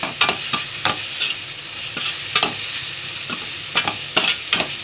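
Red chilli powder and garam masala frying in a pan, with a steady sizzle under repeated sharp scraping strokes of a spoon stirring the mixture, close up and with no talking.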